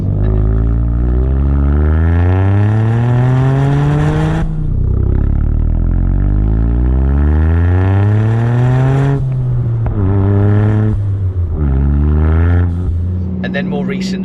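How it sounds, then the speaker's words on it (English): A Toyota GR Yaris engine revs hard through rising and falling sweeps, punctuated by sharp dump valve whooshes between gears, loud and close from inside the car. "So quite like the dump valve."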